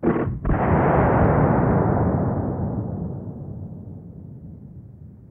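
A single flintlock rifle shot fired at a squirrel during a woodland hunt: a brief pan flash, then a loud booming report that rolls away in a long, slowly fading echo over about five seconds.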